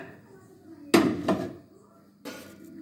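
Papad chutney is stirred in a pan with salt added, a few sharp clanks of a utensil against the metal pan over a quiet kitchen background, with a soft voice faintly present.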